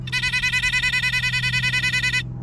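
Solar-style mole repeller device buzzing loudly in the garden, a steady electronic whine with rapid pulsing warble that runs continuously for about two seconds and then cuts off abruptly.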